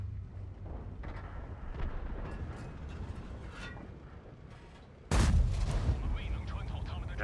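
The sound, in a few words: tank cannon fire in a video game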